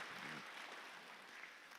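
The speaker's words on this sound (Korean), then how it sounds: "잠깐 일어서시면 저희가 뜨거운 박수로 환영하겠습니다." Church congregation clapping to welcome newly introduced visitors during a Sunday service, a soft, distant steady patter of hands with no voices over it.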